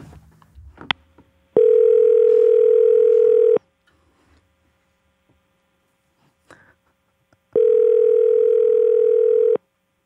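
A telephone ringback tone sounds twice while a call is being placed, each steady ring lasting about two seconds with a long silent gap between, loud and clear with no talking over it.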